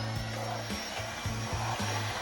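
A Roborock H7 stick vacuum cleaner runs with a steady, loud airflow roar and a thin high motor whine, while low rhythmic thumps pulse underneath throughout.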